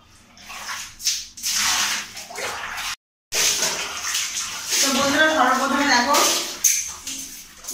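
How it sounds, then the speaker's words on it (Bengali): Water is poured over a person's body while bathing in a bathroom, with splashy, gushing bursts that rise and fall and stop briefly, and a voice talking over much of it. "গায়ে একটু জল দিয়ে নিই, তো পুরো শরীরটা ঠান্ডা করে নিই"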